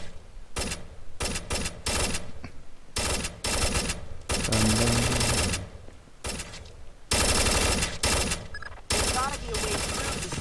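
Bursts of video-game gunfire at an indoor firing range in Splinter Cell Chaos Theory, loud repeated volleys broken by short pauses, with some talk running over parts of the shooting.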